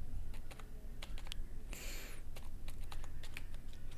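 Typing an ls command on a computer keyboard in Kali Linux, quick scattered clicks of individual keys with one longer, brighter keystroke burst in the middle, close and fairly quiet, no talking.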